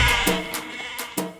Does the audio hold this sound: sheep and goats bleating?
yes